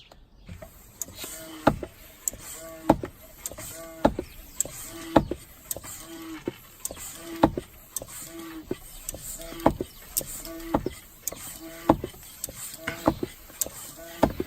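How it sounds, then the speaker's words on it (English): A track pump inflates a Brompton bicycle's front tyre through the valve, with steady rhythmic strokes, each one a sharp hiss and clack repeating about once a second, close and clear. "I'm going to fit my track pump to the valve."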